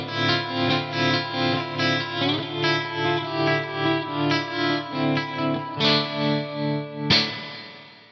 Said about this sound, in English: There's an optical tremolo in here as well, which sounds lovely.